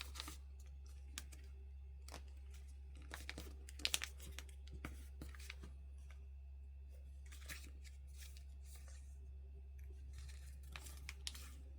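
Paper being folded for an F-16X Falcon paper airplane, faint close crinkles and soft creasing scrapes in short bursts over a steady low hum.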